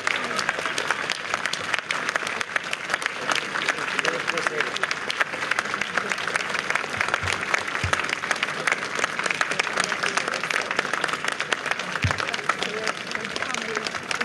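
A crowd at the outdoor dedication of the Ukrainian Holodomor Monument in Washington DC breaks into long, steady applause and cheering, dense clapping continuing throughout with voices audible beneath it.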